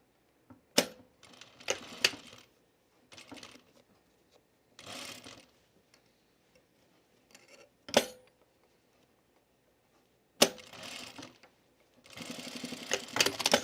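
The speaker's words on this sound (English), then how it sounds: "Now I can line this up and sew the binding on here." A sewing machine attaches binding onto a dress being refashioned, running in short intermittent bursts separated by pauses, with sharp clicks and handling noises between runs.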